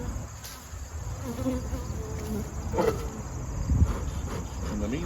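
Honey bees buzz around beehives being readied for winter, a dense, continuous hum of many insects close by, with occasional louder passes near the microphone.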